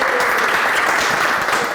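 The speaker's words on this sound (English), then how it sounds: "Let's give a round of applause." Audience clapping at the close of a talk on supporting children's reading, a brief, loud and steady round of applause from a room full of people.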